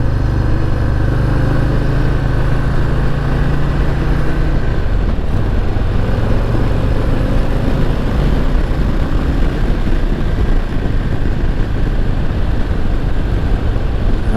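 A 2022 Harley-Davidson Low Rider S motorcycle fitted with a Memphis Shades Warrior fairing rumbles steadily throughout while being ridden, its loud, continuous engine drone mixed with wind rush and no voices.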